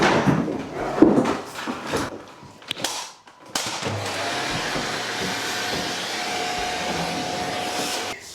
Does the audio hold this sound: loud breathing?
no